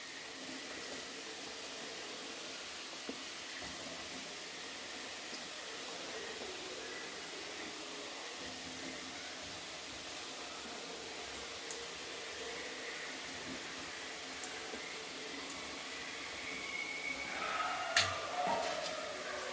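Small pieces of wheat shakarpare dough fry in hot oil, giving a steady, even sizzling hiss that holds throughout and grows a little louder and more crackly near the end, with no talking.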